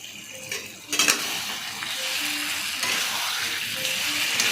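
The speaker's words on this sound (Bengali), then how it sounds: "ভালোভাবে মিশিয়ে দিলাম আলুর মধ্যে।" Spiced potatoes for kosha aloo dum are stirred in a sizzling pan, with a steady frying hiss and a few scraping and clinking spoon strokes against the metal, close and clear.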